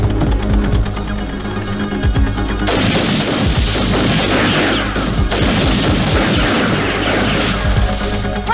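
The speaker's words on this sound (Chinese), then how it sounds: "有枪声啊，好像不对啊" Gunfire in a 1989 Hong Kong action film, a dense stretch of sharp bangs, crashes and booming impacts packed closely over a loud, continuous din, with no talk.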